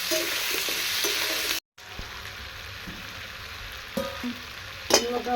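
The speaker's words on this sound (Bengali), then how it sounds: "এটাকে সামান্য ভেজে নেবো আগে" Food with a little turmeric fries in a pan, giving a dense sizzle that breaks off briefly and then returns quieter, with a few scraping stirs toward the end and no talking.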